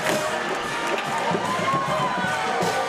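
Steady murmur of the crowd at a Pascagoula versus Gulfport high school football game, a broad outdoor wash of voices and stadium noise with some low thumps.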